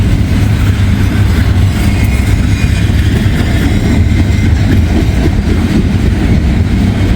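An eastbound intermodal freight train rolls past close by, a loud, continuous roar of wheels and wagons with a rhythmic clatter throughout and no voices.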